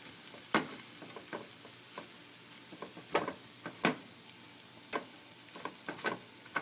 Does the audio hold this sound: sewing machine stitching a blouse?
no